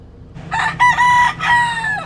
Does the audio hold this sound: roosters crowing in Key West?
yes